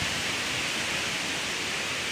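Karasu Waterfall in a picnic area at Düziçi, Osmaniye pours with a constant, dense broadband rush of falling water, steady and enveloping with no other sounds.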